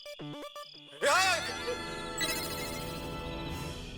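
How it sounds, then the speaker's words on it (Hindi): A mobile phone ringtone plays a short electronic melody, then a voice cries out over a lingering tonal hum, with the ringing tone continuing underneath. "मोबाइल की रिंगटोन सुनाई दे रही है"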